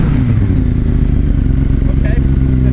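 Yamaha R6 sportbike engine held at steady revs with the throttle open, a loud, rough, constant mechanical roar up close, with a voice talking faintly underneath.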